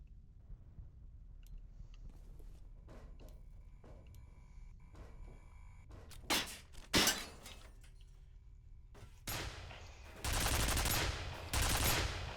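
Gunfire in the shooter FEAR: a quiet stretch of scattered faint cracks, then several loud bursts of shots and a long sustained volley near the end, with glassy shattering textures.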